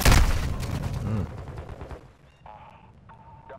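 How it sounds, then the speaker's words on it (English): Rapid video-game gunfire in bursts, loud and close at the start, fading after about two seconds into quieter game effects and tonal electronic beeps. "Taking effective fire."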